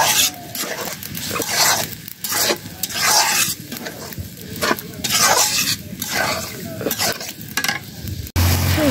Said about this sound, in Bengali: এখন হলো ডালটা আগে দিয়ে হলো কষাই নেব